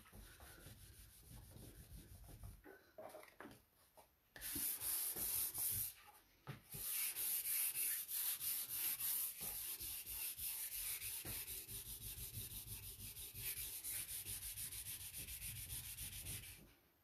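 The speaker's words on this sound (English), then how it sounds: "I put way too much on, and so I've got a lot of excess to sand off" Wood filler is sanded off furniture by hand, the excess rubbed down in long, continuous, close scratchy strokes after a few shorter, quieter passes, with no talk.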